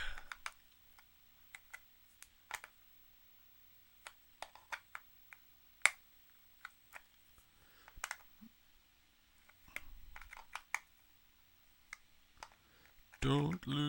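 Small screws are worked out of an N64 game cartridge by hand, giving scattered faint clicks and ticks with quiet gaps between them and a brief rustle at the end.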